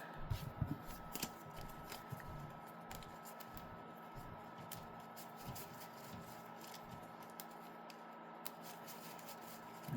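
Steady soft riffling and snapping of playing cards being shuffled nearby, a continuous papery flutter over a low room hum, with no voices.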